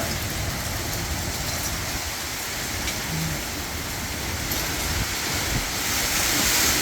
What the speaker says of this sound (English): You can hear that storm anyway.